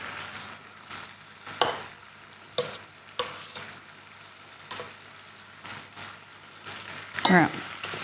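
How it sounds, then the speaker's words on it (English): Coated chicken pieces sizzle and crackle in hot oil for crispy chicken tacos, a steady close frying hiss punctuated by sharper pops and stirring clatters as pieces are moved around. "We're doing our fried chicken now."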